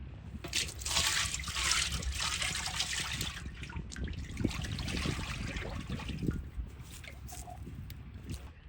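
Groundnut oil pours in a steady trickling stream into a large pot for a 15 kg chicken biryani cooked outdoors in a village, the liquid splashing continuously before tapering off.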